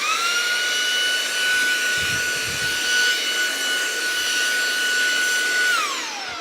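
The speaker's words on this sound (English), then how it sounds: "vacuum up the mess that you just made making the video. So this is the Shark vacuum." Shark cordless hand vacuum running with a loud, steady high-pitched whine and airy rush, then the motor pitch falls away as it shuts off near the end.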